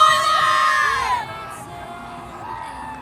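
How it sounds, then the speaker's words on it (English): A large hockey crowd of Edmonton Oilers fans chants and cheers loudly together for about a second, then fades quickly to a quieter murmur of distant voices. "everyone has built the bigger crowd around cheering "Let's go Oilers" and hoping for a victory"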